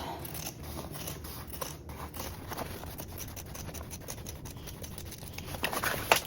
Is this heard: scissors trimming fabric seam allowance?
yes